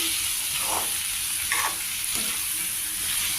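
Cabbage fries steadily in a pan with a constant loud sizzle and hiss, broken by a few scraping stirs, and no voices.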